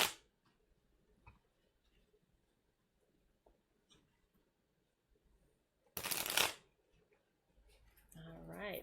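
Tarot cards are shuffled up close in a quick burst of riffling and flapping, preceded by soft scattered taps and handling, with some brief card handling at the end.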